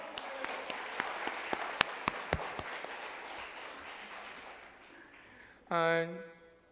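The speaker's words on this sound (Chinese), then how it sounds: "我们给自己一个平安喜乐的鼓掌，好不好？" Church congregation applauding during a Sunday service, a moderate wash of clapping with a few sharp individual claps that fades out, followed by a brief sustained tone near the end.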